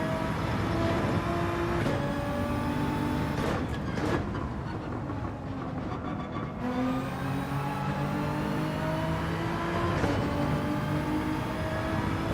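Racing engines in Gran Turismo 7, a BMW race car among them, give a loud, steady whine that rises through the gears, with sharp shift breaks and changes in pitch, close and continuous with no talk.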